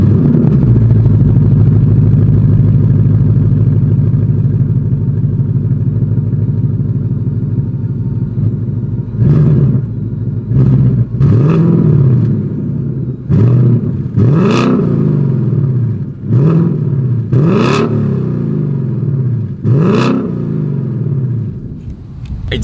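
A 2023 Ford Mustang GT with active valve exhaust idles with a deep steady rumble, then gets blipped in a string of about seven sharp, loud revs that rise and fall quickly, heard close up with no talking.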